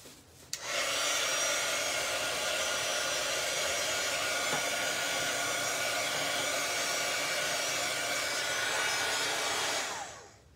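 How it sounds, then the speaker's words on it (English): A heat tool blasts steadily for about ten seconds, drying alcohol marker ink on vellum, a loud close whooshing hiss that starts abruptly and cuts off at the end, with no voices. "I'm going to bring in the heat tool and just see what happens."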